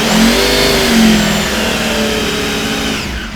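A Norton V4CR motorcycle's V4 engine barks through sharp, close revs, the pitch rising and falling in quick blips before settling into a rough, throaty idle.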